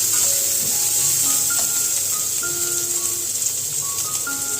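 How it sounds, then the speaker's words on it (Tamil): Dry fish (karuvadu) frying in oil in a pan for a crispy dry fish thokku, a steady close sizzle with light crackles and faint stirring, no voices. "கருவாடை இதில் சேர்த்து கருவாடை நல்லா முறுமுறுன்னு ஆகிற அளவுக்கு நம்ம ஃப்ரை பண்ணி எடுத்துக்கலாம்"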